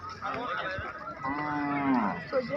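Bulls brought for a Karnataka bullock-cart race low loudly nearby, with one long drawn-out moo rising and falling amid a busy outdoor crowd murmur.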